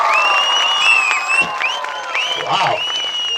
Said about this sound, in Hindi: एक बार यीशु के लिए जोर से ताली बजा दे।